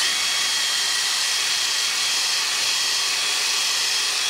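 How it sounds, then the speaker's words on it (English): A loud, steady high-pitched whir of a drill spinning a cleaning brush inside the evap purge system of a 2004 Honda CR-V, dense and unbroken throughout, with no voices. "I'm just gonna run that in there a few times with the drill."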